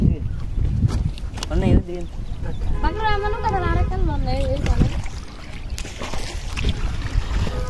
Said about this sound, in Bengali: ছোট ভাই নৌকা চালাচ্ছে